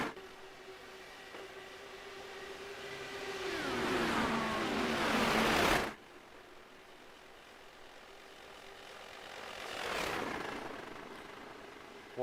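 Race car engines in a sim racing game, a loud engine drone that rises in a sweeping pass, cuts off sharply, then another car swells by more faintly, with no talk.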